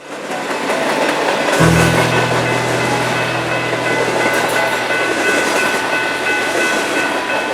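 A loud train rumbles past nearby in Duluth, Georgia, with a sustained low horn-like drone joining early and steady rail noise and hiss throughout.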